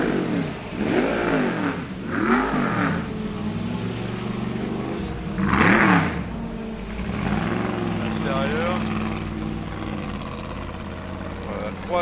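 A 308 GTS sports car's engine rises and falls in pitch as it runs past at the Castellet circuit during the Dix Mille Tours 2023 race meeting, a sustained, fairly loud roar with swelling revs and people talking over it.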